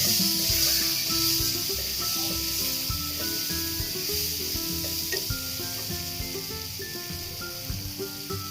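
Goda masala sautéing in a pan for a jackfruit-seed bhaji, a steady soft sizzling hiss running throughout beneath a layer of background music, fairly even in loudness.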